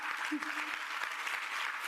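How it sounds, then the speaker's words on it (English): An audience at a summer youth internship program celebration applauds board members, a brief, steady patter of clapping with a voice briefly audible over it. "Let's give them a round of applause."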